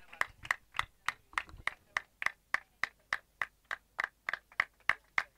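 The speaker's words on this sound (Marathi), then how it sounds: "टाळ्या होऊन जाऊ द्या." Steady rhythmic clapping from an audience at a cricket prize distribution ceremony, about twenty crisp, evenly spaced claps over several seconds, close and fairly loud with no talk over them.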